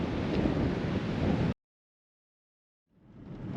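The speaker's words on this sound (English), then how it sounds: "This weather is extreme. The wind is absolutely howling." Strong wind howling at Karijini National Park as loud, rough buffeting across the microphone, cutting off abruptly to silence and then slowly swelling back in.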